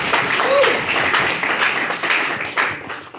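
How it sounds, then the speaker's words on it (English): A lively burst of audience applause at an evening political club gathering, many hands clapping close and fairly loud, with a brief voice mixed in before the clapping tapers off. "let's just give them all a round of applause"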